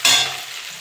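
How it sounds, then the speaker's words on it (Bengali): Chopped onion and green chilli hit hot oil with a sudden loud hiss that quickly settles into a softer, steady sizzle, brief and close. "পেঁয়াজটা একটু ভেজে নেবো, পেঁয়াজ আর লঙ্কাটা"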